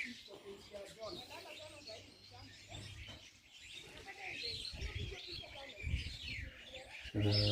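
Small birds chirp and tweet in a lively, overlapping chorus, with outdoor ambience and some indistinct voices mixed in.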